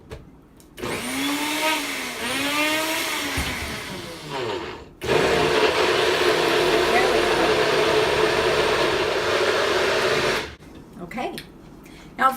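Blender grinds frozen fruit with a loud whirring motor that pitches up and down as chunks catch, stops briefly, then runs steady again before cutting off.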